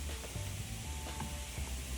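Meat juices reducing into a sauce sizzle steadily in a hot pan, a dense continuous crackle and hiss with faint stirring, close and alone.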